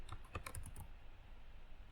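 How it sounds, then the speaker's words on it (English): Typing on a computer keyboard, a quick run of close, faint key clicks in the first second, then quiet. "I'm going to start typing."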